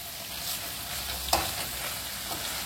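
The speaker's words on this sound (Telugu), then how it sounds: "ఇట్లా అనుకొని మనం బాగా ఫ్రై చేసుకోవాలి దీన్ని." Pepper chicken frying in a pan with curry leaves, a close, steady sizzle with the scrape of stirring and one sharper clink partway through.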